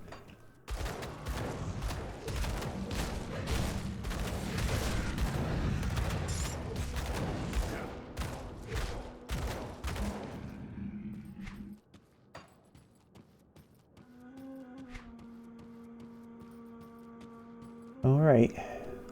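Rapid gunfire and booms from the video game Grim Dan fill the first eleven seconds, loud and dense, before fading into quieter game sounds and a sustained tone.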